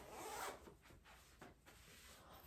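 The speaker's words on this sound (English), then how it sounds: "Let's see what it looks like when you zip it." Clothing zipper pulled up during a try-on, a close, quiet rasping zip with a few short strokes and pauses, heard alone.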